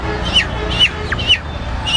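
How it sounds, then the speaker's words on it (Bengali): A chicken clucks up close in short, repeated bursts, about four evenly spaced calls over two seconds, loud and clear with no talk over them. "মুরগি"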